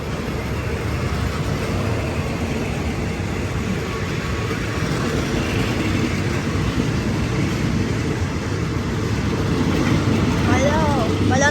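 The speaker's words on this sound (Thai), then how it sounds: "เป็นรถไฟสายเหนือนะอันนี้" A northern line train rumbles past a Thai railway station in the rain with a continuous low roar and rattling wheels, steady and fairly loud throughout, growing slightly louder near the end.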